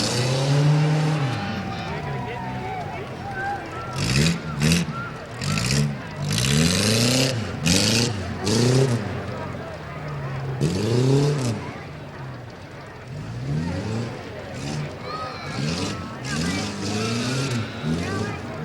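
Tough trucks racing in an off-road competition at a Tuscarawas County event, engines revving and surging repeatedly close by, with a crowd and an announcer talking over the noise throughout.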